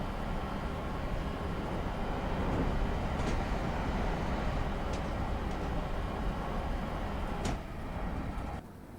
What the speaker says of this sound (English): Oh, train coming the other way.